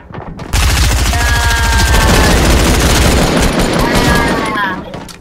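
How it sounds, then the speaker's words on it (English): Sustained, very loud automatic gunfire in the Fortnite video game: rapid shots rattle close by in one long unbroken barrage that tails off at the end. "I'm getting shot at."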